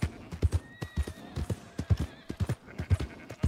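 Horse hooves clip-clop at a steady walking gait in Red Dead Redemption 2, the rhythmic thuds close and clear over a soft outdoor ambience, with a faint whinny-like tone in the background.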